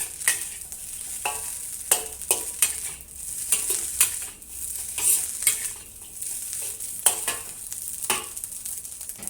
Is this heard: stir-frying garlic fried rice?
yes